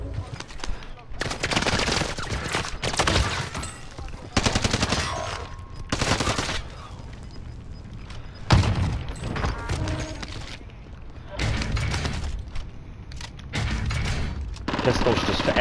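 Marshall pistol gunfire in an online shooter video game, heard as repeated rapid bursts of loud shots with short pauses between volleys and faint game noise underneath.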